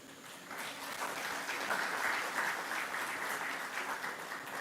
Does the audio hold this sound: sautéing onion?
no